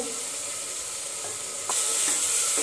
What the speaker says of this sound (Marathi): त्यामध्ये आपण फ्लावर कापून घेतलेला आहे, तोही परतून घेऊ।